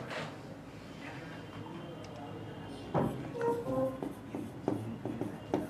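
Chalk or pen writing a formula on a classroom board, producing faint irregular scratches and taps over steady room background, with occasional soft clicks and no clear speech.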